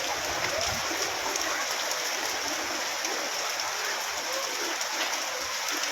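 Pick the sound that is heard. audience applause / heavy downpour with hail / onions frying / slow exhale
heavy downpour with hail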